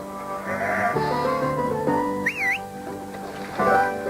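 Sheep on a farm bleat in several drawn-out, wavering calls spread across a few seconds, close by, with a short whistle heard in the middle.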